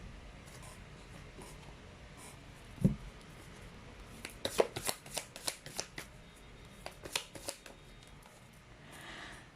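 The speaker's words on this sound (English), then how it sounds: "let's try to pull up another set of cards." Tarot cards are shuffled by hand in a quiet room, a sharp snap early on followed by a rapid run of riffling flicks and slaps in the middle, close and clear with no talking.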